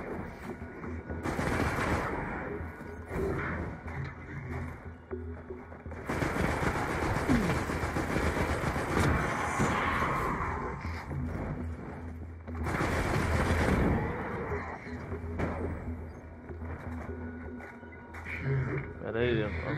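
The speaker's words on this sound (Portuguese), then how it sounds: "Tomando tiro aí de graça." Automatic weapon fire in the sci-fi shooter Destiny, bursts of rapid shots recurring throughout with loud peaks at intervals, mixed with game effects and heavy background noise; voices talk over much of it.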